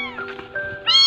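An abandoned kitten dumped at a market cries out for its mother: a single loud, high, plaintive meow, wavering and rising at the end, close to the microphone.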